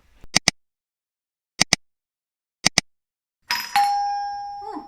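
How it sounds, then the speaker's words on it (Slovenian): A doorbell sounds three times, each a quick double chime with pauses between, close and clear; a voice then speaks briefly over a lingering tone. "Nekdo zvon."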